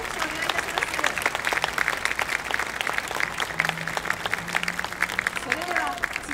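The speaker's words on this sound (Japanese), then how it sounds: "皆様、今一度大きな拍手をお願いいたします。" After a jazz band's performance, an audience gives dense, lively applause that runs steadily, while a voice speaks faintly over the clapping at times.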